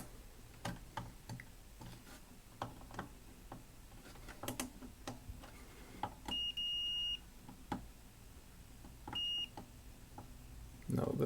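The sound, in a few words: continuity tester beeping on amplifier outputs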